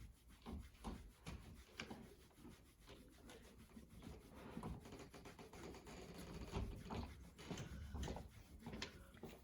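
Quick, brisk scrubbing strokes of a TuiNa massage on a prone patient make a faint, close, continuous rubbing swish with an uneven rhythm.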